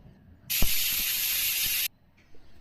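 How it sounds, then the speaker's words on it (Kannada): A pressure cooker whistle lets out one loud, steady hiss of steam lasting over a second before cutting off abruptly, followed by a brief faint puff. "ಒಂದು ವಿಸಿಲ್ ಕೂಗಿದೆ"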